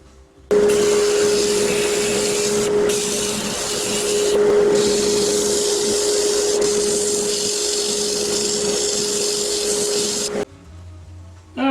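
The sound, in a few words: cut-off tool cutting spalted oak on a wood lathe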